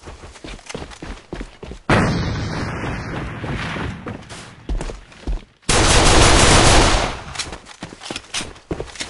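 Heavy automatic gunfire in the shooter game A.V.A, with a thrown grenade and long, loud roaring bursts, the shots rattling between them close and harsh.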